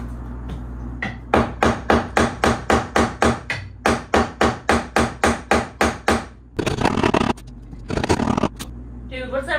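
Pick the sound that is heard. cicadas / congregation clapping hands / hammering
hammering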